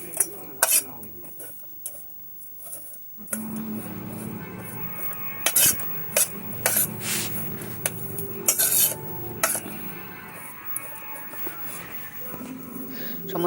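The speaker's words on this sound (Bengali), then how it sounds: "ভালো করে মূলোটাকে সব মশলার সাথে ভালো করে মিশিয়ে আমি রেখে দেবো" Grated radish being mixed with spices in a bowl, with soft stirring and intermittent sharp clinks of a utensil against the dish, fairly close, over a low background hum.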